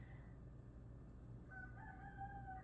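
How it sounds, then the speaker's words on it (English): A rooster crows faintly at a distance, its call rising late over a steady low hum of background noise, with no voices. "Cock-a-doodle-doo to you too, sir."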